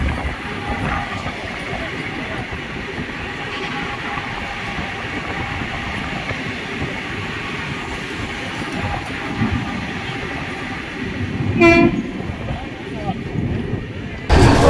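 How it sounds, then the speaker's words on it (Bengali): A Vande Bharat Express passes close by near Sasaram Junction, a loud sustained rumble and rattle with heavy thumps and a sharp clattering burst toward the end, while voices sound in the background. "দেখুন বন্দে ভারত পাস হচ্ছে।"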